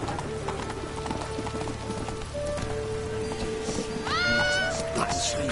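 Horse hooves clip-clop in a PS4 video game, a steady stream of hoofbeats under rain-like game ambience and tonal effects, with a voice talking over it.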